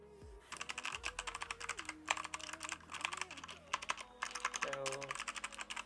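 Close-up typing on a mechanical keyboard with Box White switches, crisp clacking keystrokes in quick irregular bursts, with faint tonal background sounds underneath.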